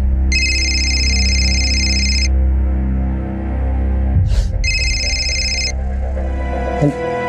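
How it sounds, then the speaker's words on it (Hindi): A telephone rings with an electronic ringtone in two bursts, one long and one shorter, over a steady low room hum in an indoor scene from a Hindi crime drama. "फोन बज रहा है कब से आपका?"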